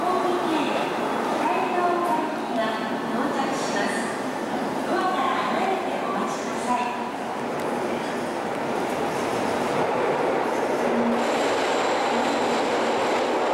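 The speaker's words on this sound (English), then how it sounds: "So down into the subway again, the Oedo Sen." Tokyo subway train on the Oedo Line, a steady loud rumble of rolling wheels and car noise filling the whole stretch, with faint squeals and some voices mixed in.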